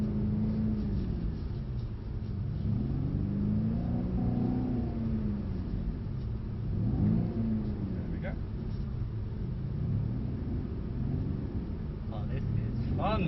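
A Mercedes C63 AMG engine rumbles and revs in rising and falling surges as the car drifts on a driving-experience track, heard from inside the cabin under an instructor's talk.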